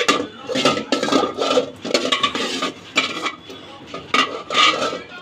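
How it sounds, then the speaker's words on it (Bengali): A thick four-egg omelette in a pan is cut into small pieces with a utensil, producing a string of irregular clinking and scraping taps against the cookware, close and moderately loud with no speech. "ডিমটাকে এখন আমি কেটে নিব"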